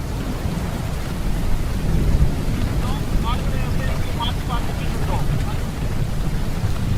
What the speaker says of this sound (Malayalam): പാലക്കാട് ജില്ലയിലും ശക്തമായ മഴയാണ് പെയ്യുന്നത്